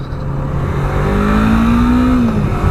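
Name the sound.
motorcycle twin cylinder engine revving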